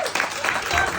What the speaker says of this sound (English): Please let me give them a round of applause.